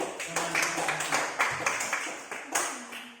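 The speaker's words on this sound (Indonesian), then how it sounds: "Tepuk tangan untuk teman kita" A classroom of students claps for a classmate in a rhythmic run of hand claps, a dozen or so sharp beats spaced fairly evenly over a few seconds, moderately loud, with faint voices in the room.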